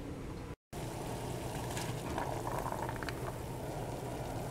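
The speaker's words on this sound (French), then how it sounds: "J'attends que l'eau revienne à ébullition et je compte 5 minutes." A pot of water boils for cooking milkweed, a soft steady bubbling and rumbling close by, briefly cut near the start, with a faint splash or stir midway.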